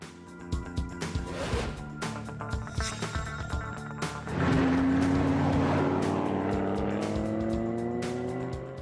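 An SRT Viper with a 640-horsepower aluminium V10 engine runs loud and close, its rough pulsing idle building into a sustained, rising roar as the revs climb.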